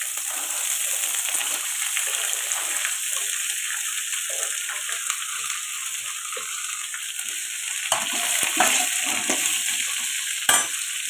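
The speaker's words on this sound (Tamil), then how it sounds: "இப்போ இந்த ஸ்டேஜில் நம்ம இந்த அரிஞ்சு வச்சுருக்கிற கேரட்டும் பீன்ஸையும் கொட்டணும்." Chopped carrots and beans hit hot oil with browned chana dal, giving a steady, loud sizzle with occasional stirring scrapes and spatters throughout, without speech.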